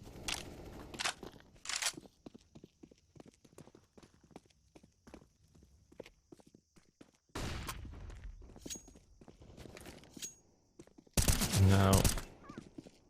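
Counter-Strike match between IKLA and Los Kogutos, with scattered single gunshots and short rapid bursts of fire, a dense loud volley near the end, alongside footstep clatter in the game.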